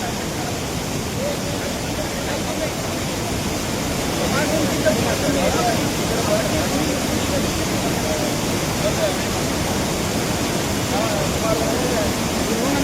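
Water rushes over a waterfall near Yellapur during a sudden surge, in a continuous, dense roar that grows slightly louder partway through and holds steady.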